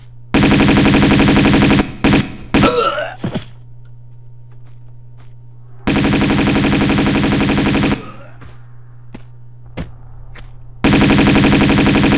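Loud, sustained automatic gunfire from Tomb Raider 2 comes in long bursts, broken by pauses holding scattered single shots and a low steady hum.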